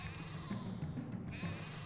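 Sheep bleat faintly in the video game Caesar III, a few wavering calls over a quiet ambient game background.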